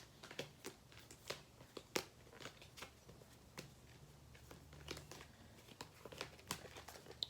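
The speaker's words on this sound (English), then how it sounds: "The last shuffle." A deck of large oracle cards is shuffled by hand, giving irregular crisp riffling snaps and soft papery rustles, close and fairly quiet, with no talking.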